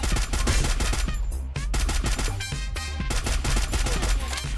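Gunfire in the mobile battle royale game Garena Free Fire, rapid bursts of automatic shots in quick succession with a brief gap, loud and up front.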